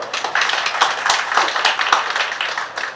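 An audience at a business and entrepreneur award ceremony claps in a steady round of applause, with sharp individual claps standing out over the crowd.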